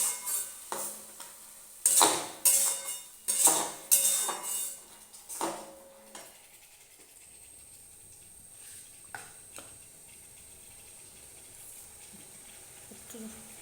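Mutton with spices being stirred with onions in a pot, metal utensil scraping and clanking loudly in bursts for the first several seconds, then fading to quiet background sizzling.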